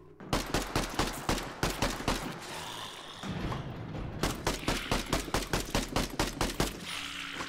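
Rapid bursts of gunfire in the survival game Zelter as a companion shoots up a wall, dense repeated sharp shots with a short lull midway, loud and close, no talking.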